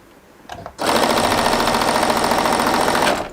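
A sewing machine chain pieces fabric scraps close to the edge, starting after a couple of faint clicks and running in one loud, steady, rapid mechanical whir for over two seconds before stopping.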